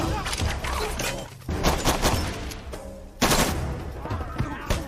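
Rapid gunfire bursts crack through a tense action film scene with soldiers shooting, loud repeated volleys clustering in several salvos over a rumbling score, with some voices mixed in.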